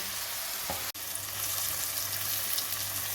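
Chopped onions with a few grains of sugar sizzle steadily in a hot pan, a constant close frying hiss broken by one brief stir.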